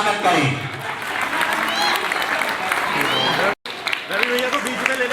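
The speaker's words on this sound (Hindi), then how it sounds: "ऐसे भव्य जीव को आप सब लोग अनुमोदन करके ताली बजा करके स्वागत करें" An audience at a Jain initiation ceremony claps in a dense, sustained round of applause, with a voice carrying over it, a brief cut near the end, then clapping and talk resuming.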